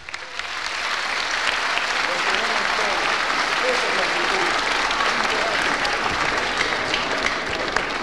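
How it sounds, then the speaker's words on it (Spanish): Sustained applause from an audience at a school inauguration ceremony in Tarija, steady and dense for the full length, with a faint murmur of voices beneath the clapping. "Un fuerte aplauso, por favor,"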